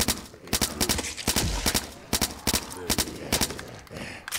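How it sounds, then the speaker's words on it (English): Machine pistol fire in the zombie-wave video game Blood Waves, as rapid, loud, close bursts of shots that repeat in quick clusters across the whole stretch, with faint talk underneath. "with a headshot with a machine pistol, it really does the trick"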